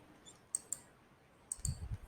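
Sharp computer mouse clicks, two pairs of crisp taps spaced about a second apart, faint and close, heard during work with an options strategy builder tool.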